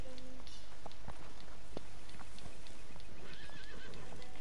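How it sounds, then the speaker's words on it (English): A horse in the Western video game Red Dead Redemption Online whinnies once, amid scattered hoof clops and a steady game background bed, with faint talk. "Your horse is a traitor!"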